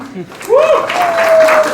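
Applause from an audience at a song launch event swells after a brief pause, loud and sustained, with a voice and a tonal sound cutting across it.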